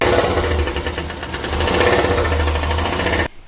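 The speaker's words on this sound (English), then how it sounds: "So the engine will sound like this" A TVS Jupiter scooter engine running with a stuck valve, a loud, fast, rough mechanical clatter with an uneven knocking pulse up close, stopping abruptly near the end.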